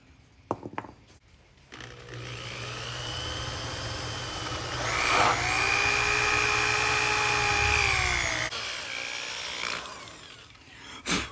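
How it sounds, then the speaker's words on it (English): A loud, steady power drill whines and grinds into a graphite fishing rod for several seconds, its pitch rising slightly as it bites in, with clicks at start and end. "Now my only recourse now is to drill."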